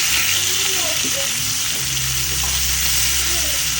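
Pork steak sizzles steadily in a hot frying pan, a continuous bright hiss with low background hum throughout.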